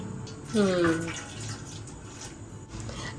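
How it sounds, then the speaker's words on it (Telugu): Milk poured from a cup into chapati dough makes a short, bubbling gurgle of liquid that rises and fades within a second, over a low indoor background with faint voices. "కప్పు పోసుకోవాలి పాలు."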